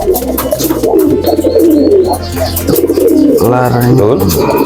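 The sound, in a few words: pigeon cooing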